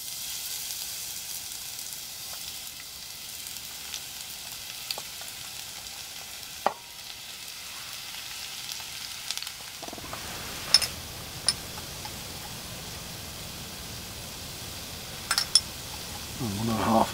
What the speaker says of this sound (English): I'm just going to soften the other onions and peppers